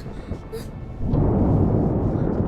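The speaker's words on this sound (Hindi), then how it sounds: "तूफान जल्दी चला जाएगा।" Thunder during a storm swells into a deep sustained rumble after a short quieter stretch with faint movement sounds.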